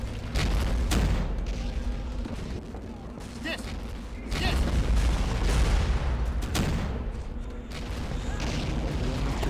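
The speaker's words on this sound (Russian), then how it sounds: "Самое время кидать гранаты." Heavy booms of grenade explosions in the WWII tactics game In the Rear of the Enemy 2, several loud blasts spaced a few seconds apart amid gunfire and battle noise, with players talking over it.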